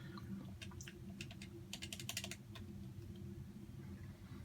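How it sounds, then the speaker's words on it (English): Rapid bursts of crisp button clicks while starting up Street Fighter V, clustered in the middle of the clip over a steady low hum, with no talking. "I kept clicking and clicking and clicking. You heard my clicks."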